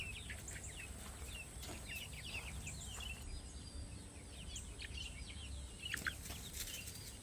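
Young chicks about a month to six weeks old and grown hens in a backyard coop, with soft high peeps and chirps scattered throughout over a steady low farmyard hum, no talking.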